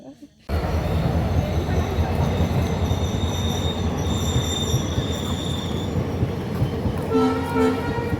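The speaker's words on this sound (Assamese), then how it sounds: "এইফালে ট্ৰেইন গৈ আছে" A train rumbles past close by, wheels clattering and squealing steadily on the tracks, with a horn sounding toward the end.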